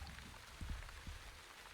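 Steady rain falls outdoors as a soft continuous patter, with a few heavier drops thudding close by over the hiss.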